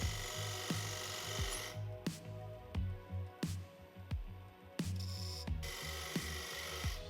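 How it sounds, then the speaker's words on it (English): Wood lathe roughing a furniture foot blank with a square carbide tool, giving a steady low motor hum cut by repeated sharp scraping catches and knocks at an uneven rhythm, close but fairly quiet, with no speech. "I'm using a square carbide tool to do the roughing."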